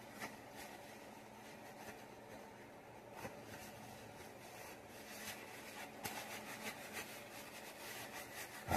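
A cloth rubs steadily over a surface to work a product in, a soft continuous scrubbing with faint rhythmic strokes and no talk.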